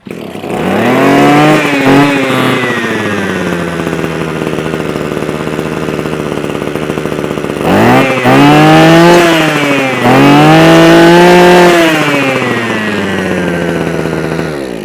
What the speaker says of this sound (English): We'll choke it. So choke's that way, fire it up, off choke.